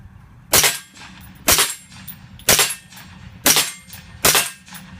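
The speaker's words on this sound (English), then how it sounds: "Where are you shooting at? Metal plate." Five evenly spaced sharp shots from a Keltec CMR-30 .22 WMR rifle, fired outdoors at a metal plate. Each crack is loud and close and rings briefly, roughly one shot per second, with no speech.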